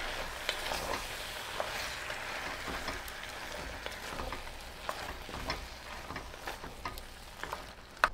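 Caramelized onions and garlic sizzle and simmer in a cooking pot while a spoon stirs them, a soft continuous frying hiss broken by faint scraping clicks, close and fairly quiet with no talking.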